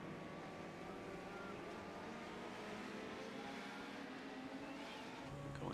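Race cars on a parade lap around the Texas Motor Speedway road course in the iRacing sim hold a steady, continuous engine drone that swells slightly toward the end.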